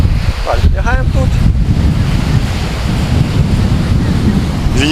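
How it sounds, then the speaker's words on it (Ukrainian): Strong wind blows across a sea beach at Zalizny Port, roaring and buffeting the microphone continuously over the surf, with a brief voice near the start. "Вітер."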